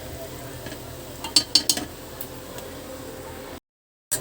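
Ghee with dried fenugreek leaves and spices is stirred in a pan over a soft, steady sizzle, with a few quick utensil scrapes clustered in the middle before a brief silence.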